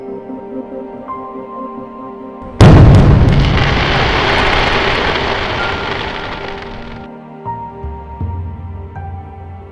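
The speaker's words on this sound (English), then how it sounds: "it produced random, sometimes extremely powerful, explosions of lava shreds, gas and hot ash every 5 to 20 minutes" A single powerful volcanic blast on Mount Etna throws out lava shreds, gas and hot ash, bursting suddenly and loudly before its roar decays over several seconds, with a steady mechanical hum in the background.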